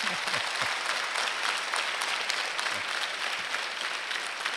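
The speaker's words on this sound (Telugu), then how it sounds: "కొట్టండి, చప్పట్లు కొట్టండి." Students at SPR school in Yellapur clap steadily together, a dense, continuous patter of many hands that holds at an even level throughout.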